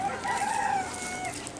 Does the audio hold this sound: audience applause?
no